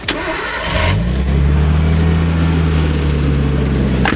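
Car engine cranking and catching, then settling into a steady low idle, close and loud, on a car with a suspected lifter tapping fault.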